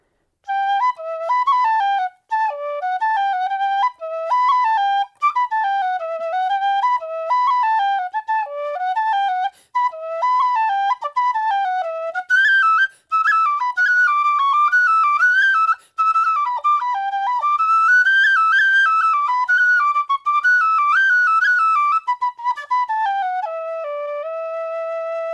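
A high D Susato tin whistle plays the lively jig "Fig for a Kiss": bright, pure, quick ornamented notes in a steady dancing rhythm with brief breath gaps, close and alone for about twenty-five seconds.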